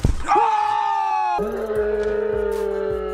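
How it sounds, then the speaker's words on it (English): Two people yell loudly in a sustained, strained scream close to the microphone, one long shout breaking into a second held yell partway through. "let's talk about the yelling"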